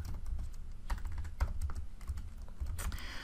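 Fast, steady typing on a computer keyboard as a Linux command is entered during a memory dump forensics demo, with close, continuous key clatter heard alone and no voices.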